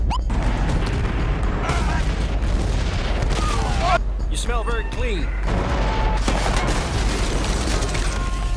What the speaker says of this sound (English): Battlefield Bad Company blows up a lot of things really well